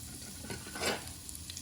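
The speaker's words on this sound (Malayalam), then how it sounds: "പാൻ ചൂടായി വന്നിട്ടുണ്ട്, അതിലേക്ക് വെളിച്ചെണ്ണ ഒഴിക്കാം" Coconut oil sizzles faintly in a hot pan with a soft, steady crackle, swelling briefly to a louder hiss partway through.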